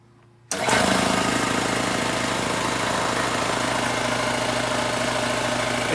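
A 2 horsepower air compressor with a 20-gallon tank kicks on after a brief quiet moment, then runs as a loud, steady motor drone with constant rattling vibration until the end.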